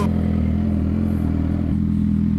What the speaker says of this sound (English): hearing the bike all the time kind of sucks